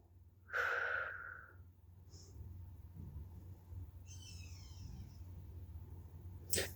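A single audible exhale during a thigh, abs and glute workout, one breathy rush of air near the start, followed by quiet room hum and faint rustling.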